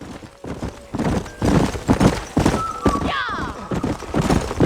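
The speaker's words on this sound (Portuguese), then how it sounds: "Bem, por enquanto só tô andando de cavalo aqui nesse jogo." A galloping horse in the Red Dead Redemption western game, its hoofbeats drumming close and a short whinny cutting through midway, with faint talk underneath.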